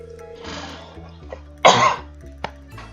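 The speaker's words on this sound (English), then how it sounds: "I had a bit of a coughing fit, and I don't know why." A couple of harsh, close coughs, one soft then one loud and raspy, followed by a brief throat-clearing catch.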